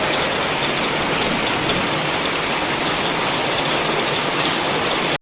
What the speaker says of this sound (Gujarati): અવાજ જુઓ કેટલો આવે છે પાણીનો.